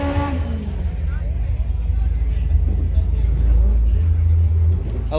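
A supercharged Mazda RX-7 engine runs with a deep, steady low rumble that swells slightly partway through, close by, while people talk over it.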